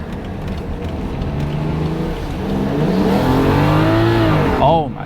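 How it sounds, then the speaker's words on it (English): A tuned BMW F10 accelerates hard in sport mode with traction control off, engine pitch climbing steadily and loudly through a gear change, then a quick rising rev before cutting off. "Let's go sport mode, traction control off."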